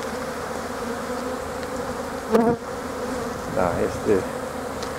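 Honeybees buzzing around a hive on a warm winter day during a cleansing flight, a steady dense outdoor hum of many bees with a few brief bursts of speech.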